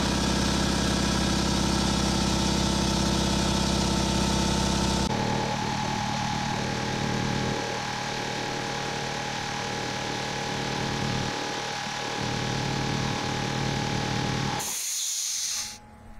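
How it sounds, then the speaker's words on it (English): A new Ingersoll Rand 5HP 60-gallon vertical air compressor in a barn runs with a loud, steady mechanical drone and hiss that shifts in tone partway through, then cuts off abruptly near the end with a short hissing release. "Let's see if the new compressor turns on."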